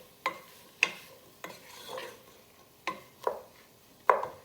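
Peppers and other vegetables cooking in a pan, stirred with a utensil: about six sharp scraping strokes at irregular intervals over a faint, steady sizzle, close up.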